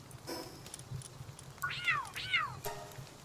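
A cat creature in the video game PalFrame meows several times, short rising-falling calls spaced apart, clear and close over quiet game background.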